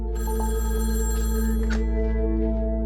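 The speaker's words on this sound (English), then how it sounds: "And of course, the phone rings." A telephone bell rings indoors, a steady loud electronic trill sustained throughout with a sharp extra chirp partway through, alone with no talking.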